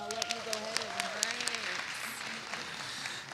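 Scattered hand clapping rises in a board of education meeting room while a voice speaks over it, the claps fading out after a couple of seconds.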